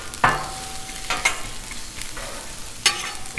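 Vegetables tossed in oil on a hot Blackstone griddle make sharp metal spatula scrapes and clanks, a few distinct strikes over a low, crackling sizzle close by.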